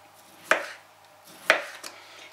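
Kiwi fruit being sliced thinly with a knife on a board for a layered homemade children's cake, two sharp close chops about a second apart followed by a couple of lighter taps, no talking.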